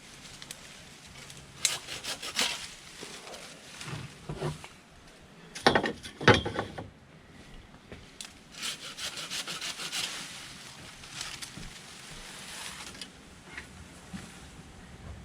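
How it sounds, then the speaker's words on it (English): Tree branches are trimmed near solar panels, with a close hand saw rasping in irregular bursts and a few sharper cutting strokes, quiet and with no talk. "I think we'll just trim them a little bit just so that you can get in here all right"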